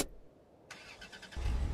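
A car engine in the video game Under The Sand cranks and catches after a short quiet pause, then settles into a low, steady rumble that grows louder toward the end.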